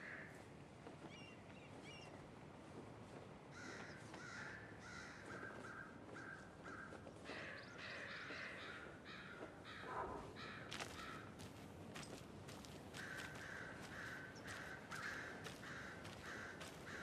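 Several crows caw in a forest setting in the video game Alan Wake 2, with harsh repeated calls at mid distance, some overlapping, over a low steady ambient bed.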